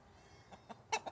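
A chicken gives a few short, soft clucks in quick succession, faint and somewhat distant, with no talking over them.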